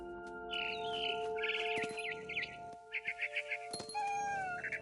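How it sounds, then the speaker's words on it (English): Barn swallow chirping in the video game What Remains of Edith Finch: several quick bursts of bright, twittering chirps over a steady hum of ambient game tones. "Then I heard chirping outside my window. It was a barn swallow going back to her nest."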